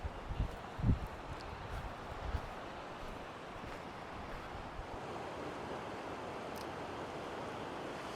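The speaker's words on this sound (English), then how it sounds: "So there's the Arkansas River down below us here." The Arkansas River near Buena Vista, Colorado, flows somewhere below, a faint, steady rushing wash blended with soft wind and a few low bumps near the microphone.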